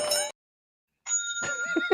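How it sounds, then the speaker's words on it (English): A small bell rung twice with a bright ding, tied to a Star Wars R2 unit toy, each ring sharp and clear with a lingering tone and a brief silent gap between strikes. "Ring the bell."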